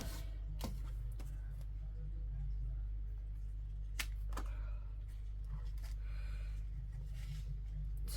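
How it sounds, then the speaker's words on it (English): Snow photos being cut down with a paper trimmer, a few sharp slicing snaps and clicks scattered over a steady low room hum, close by and fairly quiet. "I'm just cutting my photos down."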